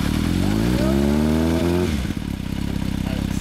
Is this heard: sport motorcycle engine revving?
yes